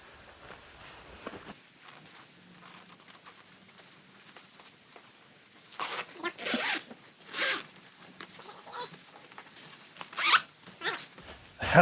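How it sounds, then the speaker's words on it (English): A zipper closes the roll bar padding cover on a Jeep TJ: first quiet fumbling, then several short, close zip pulls in separate bursts. "let's see if we can get things zipped up here"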